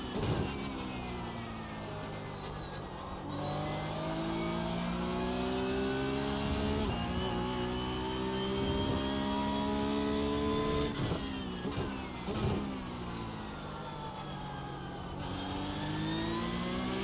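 A race car engine in a racing video game at Daytona, loud and sustained with rising revs, shifting pitch and occasional gear changes as it accelerates, close and continuous without talk.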